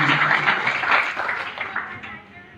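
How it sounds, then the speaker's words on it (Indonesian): Church congregation clapping during a sermon, a bright dense applause that swells briefly then fades out over a couple of seconds. "Tepuk tangan untuk Tuhan."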